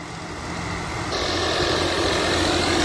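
A Swaraj tractor engine fitted with a GS Turbo Moga turbo runs loud and close, a continuous dense roar that builds slightly and holds steady.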